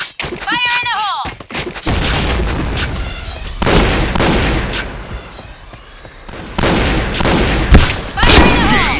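Grenade blast and rapid shotgun and gunfire in a shooter video game, loud dense bursts and booms packed together over about nine seconds, with game announcer voices and electronic tones mixed in.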